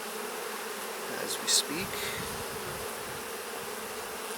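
Honey bees hum and buzz in a dense, steady drone around an open hive, with a few louder passes close by. A voice briefly speaks underneath.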